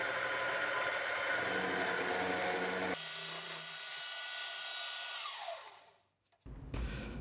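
An oversized dovetail cutter mills a slot in a part for a homemade boring head, cutting both sides in one heavy pass. A loud, steady machining whine and rumble runs for about three seconds, then a quieter spin-down follows before the cutter stops briefly and restarts.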